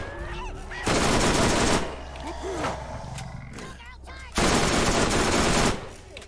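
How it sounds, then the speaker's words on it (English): In Borderlands, a sniper rifle that fires like an assault rifle lets off two long, loud rapid-fire bursts. Game noises with squealing, voice-like cries fill the gap between the bursts. "This is a sniper rifle that shoots like an assault rifle."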